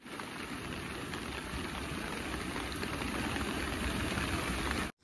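Heavy rain falling in a Jammu and Kashmir village, a dense, steady hiss that stays loud and unbroken before cutting off abruptly at the end.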